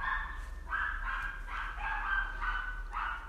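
Several neighborhood dogs bark in a steady series of loud, repeated yaps, roughly one every half second, over a constant low background hum.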